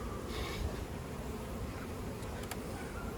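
Buckfast honeybees at an open hive in an apiary fill the air with a steady, dense buzzing that holds at an even level throughout, with no voices.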